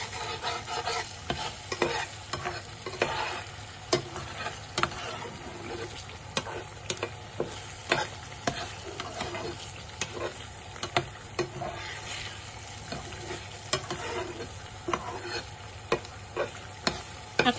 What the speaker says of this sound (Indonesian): Ini mesti sering-sering diaduk, kalau enggak nanti gosong yang bawah.